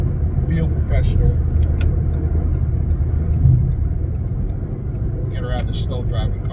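A car drives steadily on a road with a constant low engine and tyre rumble throughout, and a voice talks over it.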